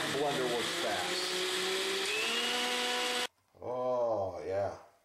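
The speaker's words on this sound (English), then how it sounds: "then we're gonna blend this up. And I'm not done, I just wanna show you this. I mean, that blender works fast." Blender whirring through a diet shake, a loud steady high-pitched motor whine for about three seconds, then it cuts off and a person speaks.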